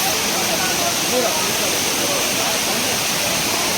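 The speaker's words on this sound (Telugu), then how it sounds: "water falls" A loud, steady roar of a waterfall on the Netravati Peak trek fills the whole clip, constant rushing water with faint voices barely audible underneath.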